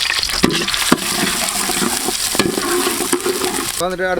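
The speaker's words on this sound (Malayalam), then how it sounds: "ആ ചൂടായ ഓയിലേക്ക് നമുക്ക് ഇഞ്ചിയും വെളുത്തുള്ളി ഇട്ട് കൊടുക്കാം." Ginger and garlic sizzle in hot oil with steady crackling and scraping stirs up close; a voice speaks briefly near the end.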